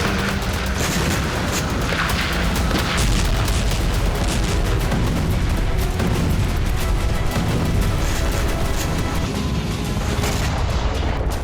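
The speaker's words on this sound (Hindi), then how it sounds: "जैसे ही रूसी टुकड़ी आगे बढ़ती है, उसके करीब जोरदार धमाका किया जाता है" A wartime combat scene with a powerful blast erupting near an advancing Russian unit, a loud, sustained barrage of booming detonations and crackling bursts filling the whole stretch without pause.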